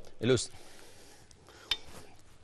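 Salad plates and dishes handled at a table, a sharp ceramic clatter followed by quieter clinks, close and brief amid a quiet room.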